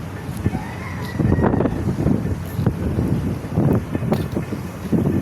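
Strong gusting wind buffets the microphone on an outdoor site near a tower crane during low-pressure weather, rising in loud rumbling surges with brief quieter lulls.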